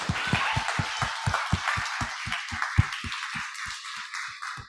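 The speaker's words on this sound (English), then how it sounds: "Let's give him a big round of applause" Audience applause at a science talk by Jorge Cham, a steady wash of clapping with a regular rhythmic thumping underneath, moderately loud and continuous for a few seconds.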